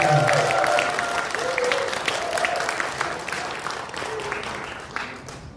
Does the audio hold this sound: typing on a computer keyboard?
no